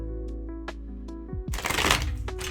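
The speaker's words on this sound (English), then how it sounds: "what the hell kind of shuffle was that?" Tarot cards are shuffled close up: a few light taps and flicks, then a quick, loud burst of riffling cards over a low steady background hum.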